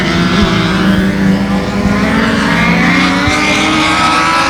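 A pack of race cars roars around a speedway track at a green-flag start, a loud, continuous, overlapping engine drone with no gaps.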